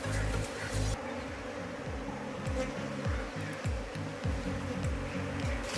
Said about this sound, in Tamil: மற்ற குளவியல் எல்லாம் உள்ளுக்கு போகுது